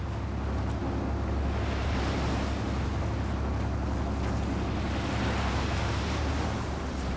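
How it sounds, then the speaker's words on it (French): Sea waves and wind surge steadily around a boat on a rough crossing to the steep coast of Hiva Oa in Polynesia, with swells often reaching three metres; a loud, continuous broadband roar of water and hull noise with no voices. "Les vagues, comme aujourd'hui, atteignent souvent les 3 mètres."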